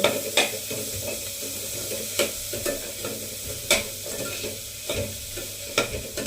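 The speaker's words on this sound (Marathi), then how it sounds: "आता याच्यात मोड आलेले मूग घालून देऊ व्यवस्थित घाटलून देऊ" Sprouted green moong being stirred in a hot frying pan: a steady sizzle runs throughout, broken by several sharp scraping clacks of the spoon against the pan at irregular intervals, close and clear with no talking.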